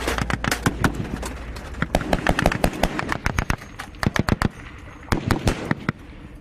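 Incoming gunfire in Afghanistan in hot, dusty conditions, heard as loud, sharp cracks and rapid bursts coming in irregular clusters, some close and some farther off, with no voices over them.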